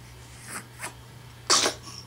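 A child sneezes once, sharp and close, preceded by two small snuffly breaths, with a steady low hum running underneath.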